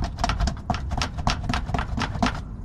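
A 2014 Honda CR-V with worn shocks gives off a repeated knocking and thumping from the suspension as the steering is yanked. The close, loud clunks come in a fairly regular rhythm, several per second.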